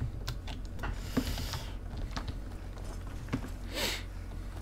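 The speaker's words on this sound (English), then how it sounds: "now he won't fucking hear my typing" Computer keyboard typing during a playthrough of The Elder Scrolls V: Skyrim, irregular keystroke clicks scattered across the stretch over a steady background hum of game audio.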